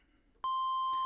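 A steady, pure electronic tone from a synthesizer's first oscillator (VCO1) switches on abruptly and holds at a constant pitch, loud and unwavering, with a brief soft noise partway through.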